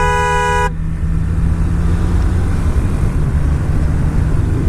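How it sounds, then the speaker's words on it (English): A loud, train-style horn on a BMW motorcycle blasts a rich chord for under a second, then cuts off, leaving a steady idling engine rumble underneath. "there's like a train horn inside here"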